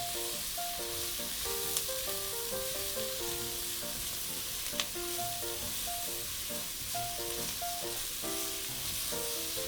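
Zucchini for ratatouille roasts in a pan, giving a constant, even sizzle at moderate level throughout. A faint tone wavers underneath, and two brief sharp ticks stand out. Nobody speaks.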